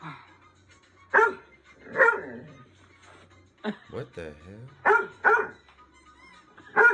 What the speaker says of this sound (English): The dog in question begins to bark at something